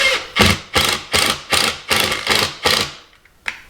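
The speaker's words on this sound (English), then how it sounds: "I'm going to use some 2-inch wood screws here to attach the hat." A power drill drives 2-inch wood screws into wood while a rustic snowman is built from wood slices. Seven rapid, evenly spaced bursts of loud ratcheting whir sound up close, then a short final blip after a pause.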